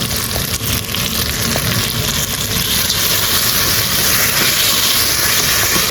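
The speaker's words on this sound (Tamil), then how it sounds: "அந்த பச்சை வாசம் போக மட்டும் இப்படியே வதக்கணும்." Onions frying in a pan for biryani, a loud, continuous close-up sizzle and hiss that holds steady throughout with no pauses.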